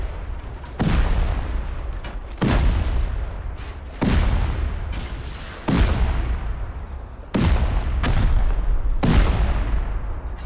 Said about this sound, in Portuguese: Vamos escutar fortes explosões.